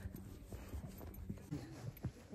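A horse walks slowly on a trail near Rara Lake in Nepal, its hooves clip-clopping in an uneven rhythm at close range while faint sounds carry in the background.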